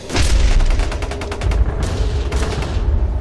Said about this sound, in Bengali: হুট করেই ফায়ার করার হুকুম দিয়ে দেয় সে